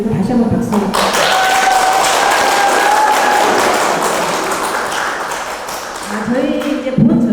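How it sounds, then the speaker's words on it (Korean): Audience at an art exhibition lecture applauding, sustained clapping that gradually fades, with talking beneath it and resuming at the end. "다시 한번 박수"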